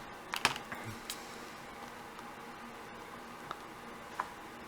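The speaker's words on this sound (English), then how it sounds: "You can just type on the keyboard and it autofills." Typing on a computer keyboard to enter data into a Cassiopeia A-21S handheld computer: a handful of quiet, irregular key clicks, a short burst at the start and then sparse taps, faint and close with no talking.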